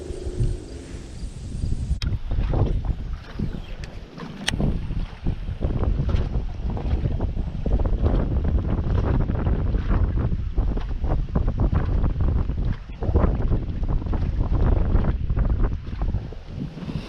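Choppy lake water slaps and crashes steadily while strong gusts buffet the microphone throughout, a continuous roar of waves and wind with no talking, heard from a small fishing boat.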